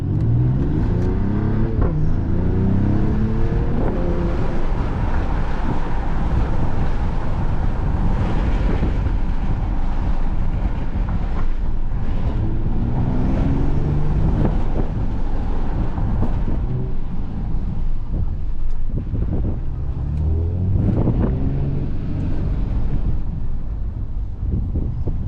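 A 2021 Mercedes-AMG GLE 53 4MATIC+ SUV driving in Sport Plus mode, its engine note rising and falling through repeated revving pulls, heard from inside the cabin under steady road and wind noise.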